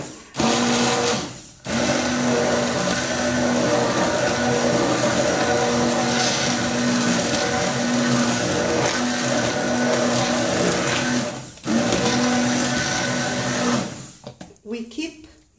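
An electric mixer blending oils and lye solution for green tea soap: a loud, steady motor whir running almost the whole time, with one brief pause and stuttering stops near the end.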